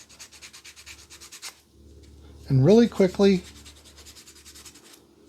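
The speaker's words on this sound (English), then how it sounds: "and then take a sanding stick" A sanding stick rubs plastic model engine parts to knock down cut burrs, producing a rapid series of close, rhythmic scratchy strokes, then a brief pause and more light sanding as someone speaks over the middle.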